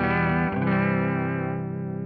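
Electric guitar through a TC Electronic Shaker vibrato pedal with the tone set bright: one sustained chord rings out with a gently wavering shimmer, dense harmonics fading slowly, no talk.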